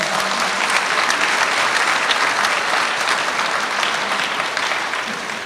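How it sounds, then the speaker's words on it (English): Graduation-ceremony audience applauds at Mount Everett Regional School, a steady broadband wash of many hands clapping in a large room, sustained for several seconds and tapering slightly at the end. "You can clap."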